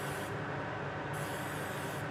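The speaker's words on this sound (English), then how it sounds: "Pretty much have to spray the whole part, really." A spray can steadily mists a metal mower hub before welding, a continuous even hiss that holds at one level for about two seconds, near and alone with no talking.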